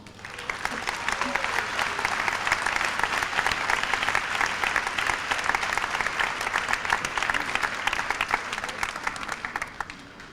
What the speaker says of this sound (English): Please hold your applause till I read both names.